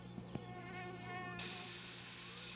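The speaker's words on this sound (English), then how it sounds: "Okay, mosquito." In the video game My Summer Car, a mosquito whines near the ear with a thin, steady buzz. A sharp hiss takes over partway through.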